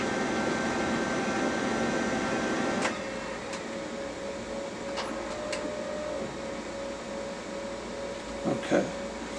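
A Brother MFC 9970 laser printer initializing after a drum replacement gives a steady mechanical whir and hum that drops in level partway through, with a few faint clicks and a soft clunk near the end.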